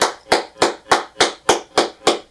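A man claps his hands eight times in a steady, even rhythm, each clap sharp and close, with nothing else heard between them.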